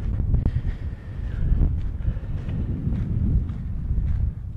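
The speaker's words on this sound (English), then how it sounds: "The old wind's picked up a bit now" Steady wind buffets the microphone outdoors at a Formula 1 race track on a hot day, a continuous low rumbling roar without pauses and with no talk.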